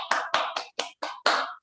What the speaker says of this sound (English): See, just we'll give a clap.